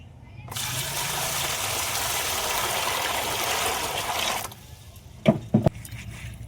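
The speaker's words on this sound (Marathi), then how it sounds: "तर मी एका इकडे भांड्यात पाणी घेऊन घेतो." Water pours steadily into a vessel for about four seconds, a full close gush that stops abruptly, followed by a couple of sharp clinks.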